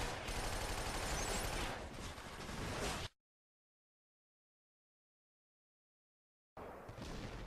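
Bursts of M224 A1 light machine gun fire in the Killzone 2 video game, a dense roar of rapid shots for about three seconds, then a sudden cutoff to silence before firing resumes.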